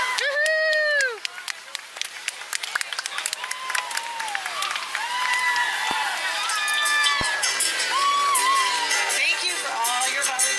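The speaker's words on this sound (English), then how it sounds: "Let's give them a big round of applause." Crowd applause and cheering along a July 4th parade route in Arlington, Texas, in 2022, with whoops and whistle-like shouts rising over steady clapping while voices talk throughout.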